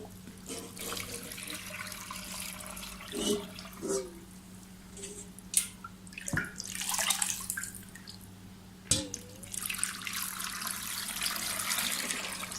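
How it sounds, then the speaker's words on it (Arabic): Strained water is poured into a jar of white cheese, with a steady trickle and splash running throughout alongside occasional drips and small knocks, fairly quiet and with no talking. "راح اعبي من المي اللي صفيناها"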